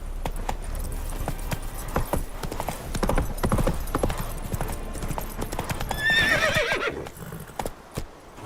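Horse hooves clip-clop at a gallop in The Witcher 3, a steady rhythmic beat close by, with a horse whinnying near the end.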